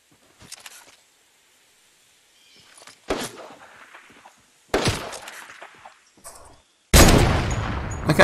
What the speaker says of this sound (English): I love this heavy sniper